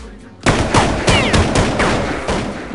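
Rapid automatic gunfire in a video game on a prison Alcatraz server, a loud close burst that starts abruptly after a brief lull and continues as repeated sharp cracks with ringing tails, fading slightly toward the end.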